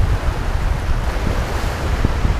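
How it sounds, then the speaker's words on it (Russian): Strong wind buffets the microphone on a beach at Käsmu, with a loud continuous low rumble mixed with crashing surf and no talking. "что ветер дует мне сейчас в лицо"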